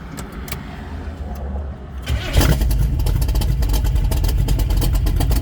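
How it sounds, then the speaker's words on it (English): A 1931 Ford coupe with a 383 stroker V8 cranks and fires up about two seconds in, then settles into a loud, steady, rumbling cold idle close by, with some light clicks before the start. "Start her up, see how she's sounding today."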